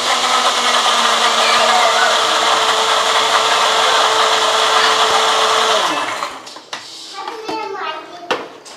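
A blender grinding protein pancake batter, a loud, steady high whirring motor for about six seconds that then winds down and stops, followed by a few clunks of handling.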